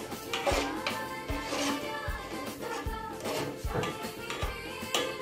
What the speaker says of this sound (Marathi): ह्याला सतत ढवळत राहायचं आहे, मध्यम आचेवर ठेवायचा आहे गॅस।